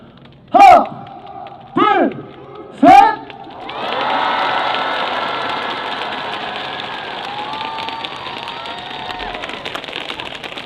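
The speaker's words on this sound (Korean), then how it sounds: "박수 함께 한 손 한번 보내주십시오" At an open-air concert on a university sports ground in Iksan, a voice calls out three loud counts, then a large crowd bursts into sustained applause and cheering that carries on evenly, sounding wide and somewhat distant.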